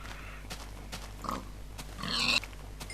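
A pig in a Minecraft-style video game gives a few short grunts and oinks, faint and spaced apart, followed by a louder squealing burst near the end over a low steady hum.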